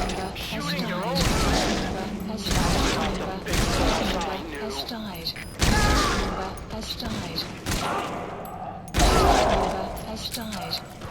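Gunfire in the video game Metal Gear Solid 5: The Phantom Pain, several loud bursts of shots with mechanical clatter, spaced a few seconds apart, with speech heard in between.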